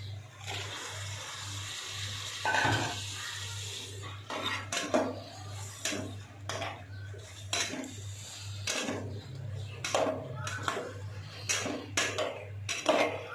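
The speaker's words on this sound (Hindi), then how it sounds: "अब हम अच्छी तरह से गोश्त को भून लेंगे।" Meat is stirred and fried in a pot for a Pakistani-style onion chicken curry, with repeated metal spoon scrapes and clanks against the pot over a low steady hum, no talk.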